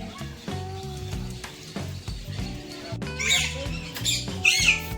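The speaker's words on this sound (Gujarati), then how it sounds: "પોપટ છે." A nearby parrot lets out sharp, shrill squawks, clustered mostly in the second half, above a low murmur of background voices.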